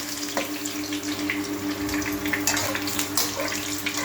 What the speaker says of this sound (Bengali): আলুগুলোকে একটু ফ্রাই করে নিচ্ছি